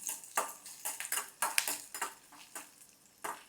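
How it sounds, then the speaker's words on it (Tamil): Garlic and ginger being sautéed in a pan for Mysore masala dosa, a soft sizzle broken by irregular scrapes and clinks of a utensil stirring against the pan, faint and close. "ஒரு நிமிஷம் வதக்குங்க"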